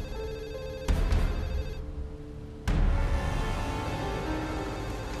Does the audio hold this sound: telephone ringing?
yes